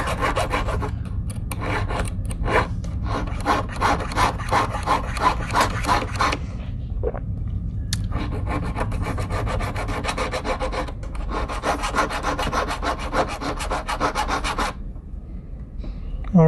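Hand file working a cast silver pendant, close rhythmic rasping strokes in quick repeated bursts, with a short pause midway before a second long run of filing.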